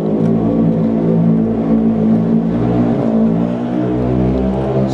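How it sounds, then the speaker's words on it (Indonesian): A motorcycle passes on a nearby main road, its engine a loud, steady mid-pitched drone with rising revs, close and continuous throughout with no talk. "karena dekat jalan raya jadi suaranya kenceng, ada motor"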